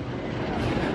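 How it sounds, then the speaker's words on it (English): The little train ride at Busch Gardens gives a brief, fairly quiet broadband rolling rumble with no clear clatter or talk. "So we're going to go on the little train ride."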